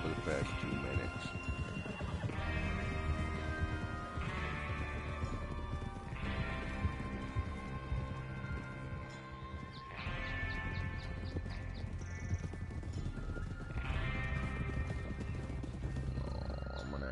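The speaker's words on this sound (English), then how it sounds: "As if we haven't been riding our horses for the past 2 minutes." Steady, rhythmic clip-clop of trotting horse hooves from the video game Red Dead Redemption 2 runs throughout, with an occasional whinny, over a continuous musical background.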